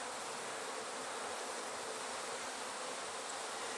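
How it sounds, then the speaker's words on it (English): A dense, continuous buzz of many honey bees fills a hive box holding brood as they are shaken down. The hum is close, loud and even, with no voices. "I'm shaking these bees that did not go down to leave the brood"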